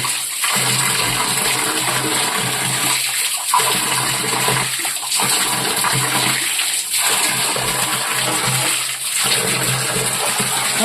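Water streams steadily into a temple tank with a constant, loud gushing flow, alone with no voices, holding an even level throughout.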